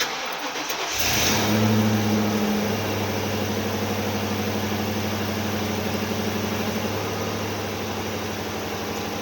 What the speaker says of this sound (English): looks like we probably need to have our engine running, so I'm gonna fire this thing up